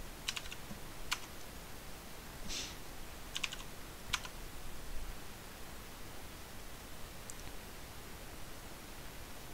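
Several sharp computer keyboard key clicks sound in short bursts over a faint, steady hiss, then stop, leaving only quiet background noise.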